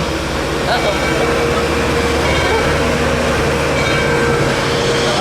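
Steam excursion train pulling out of Grand Junction on a heritage railroad, a steady loud rolling rumble and rail noise filling the whole stretch, with a voice talking over it.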